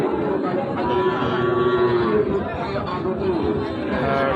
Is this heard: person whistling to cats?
no